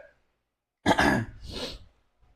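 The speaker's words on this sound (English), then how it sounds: "I'm just coughing a little bit." A single person gives a short burst of harsh coughing and throat clearing, close and fairly loud, after a moment of near silence.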